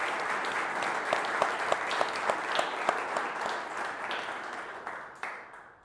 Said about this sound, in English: let's give a nice round of applause to Malcolm and the other finalists